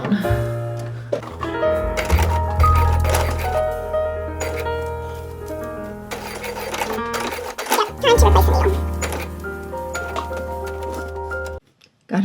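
A home sewing machine stitches a reusable shopping bag in short bursts of rapid mechanical whirring and ticking, stopping and restarting, with pauses and quiet clicks between runs close to the microphone.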